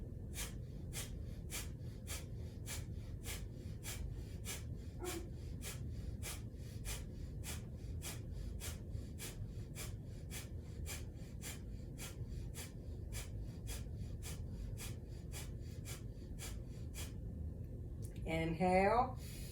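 Rapid breath-of-fire yoga breathing: sharp, evenly spaced exhales pulse quickly and steadily at close range for most of the stretch, with a brief voiced sound near the end.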